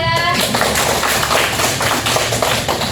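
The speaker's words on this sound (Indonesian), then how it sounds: "Tepuk tangan untuk kelompok 2." A classroom of students applauds a presenting group during a mathematics lesson, with quick, close, somewhat uneven hand claps and taps forming a brief burst.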